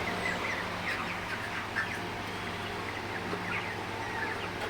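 Broiler chickens in a poultry shed give scattered soft clucks and chirps over a steady low hum, moderately close and fairly quiet, with no voices.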